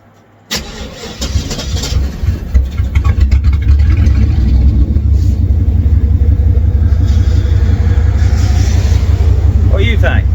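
A car engine with its muffler deleted and a straight exhaust fires up abruptly, then settles into a loud, deep, continuous rumble that swells slightly as it revs, close and unmuffled throughout.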